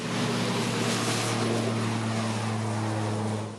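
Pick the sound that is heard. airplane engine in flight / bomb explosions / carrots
airplane engine in flight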